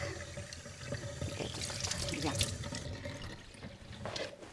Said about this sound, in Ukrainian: маємо це все сполоснути холодною водичкою